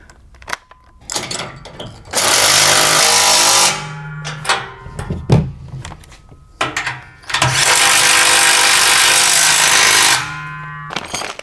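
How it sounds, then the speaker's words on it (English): A power tool with a 3/4 inch socket tightening carriage bolts while a Malone MicroSport overland tent trailer is assembled. Two long loud bursts of motor whine with rattling impacts are separated by short blips and clanks of handling. "we'll switch over to the 3/4 inch and tighten these"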